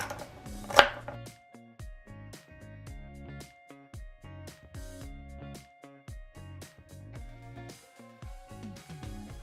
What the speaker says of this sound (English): So I am going to chop up the celery